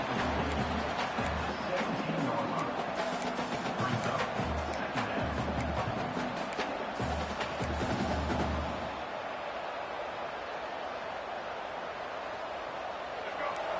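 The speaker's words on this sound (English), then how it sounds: "And here comes the noise. This crowd is trying to inspire this defense" A large college football stadium crowd roars steadily for several seconds, broad and continuous, then the noise drops to a lower murmur near the end.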